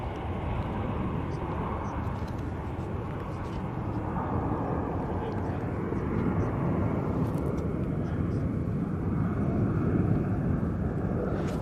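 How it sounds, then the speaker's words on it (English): A Sun Express Boeing 737 MAX 8 arrives at Manchester Airport, its broad jet roar steady and moderately distant, swelling slightly toward the end, with some wind noise. "And there we go, the Sun Express, our next arrival. Using 737 MAX 8 for this flight."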